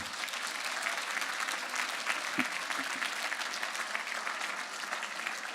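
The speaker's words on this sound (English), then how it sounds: "Big round of applause for them." An award ceremony audience applauds Lawrence Home Nursing, a charity: steady, even clapping from a large crowd, fairly soft and distant, holding at one level throughout.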